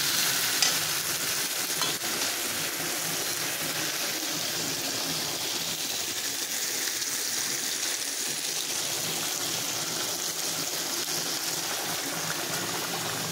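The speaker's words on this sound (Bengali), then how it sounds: "ভালো করে নাড়াচাড়া করবো যেন সব জায়গায় সমানভাবে মশলাটা মিশে যায়" Fish curry with salt and spices is stirred in a pan, with a continuous sizzle and scraping stir running close and steady with no talk.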